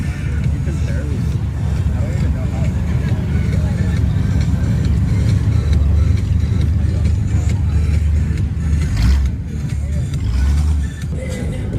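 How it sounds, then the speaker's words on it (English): At a Saturday night car meet, a loud Mustang rumbles past with a deep, throaty engine note that swells and fades, while people talk nearby. "pretty loud, like most Mustangs are. And he's moving along."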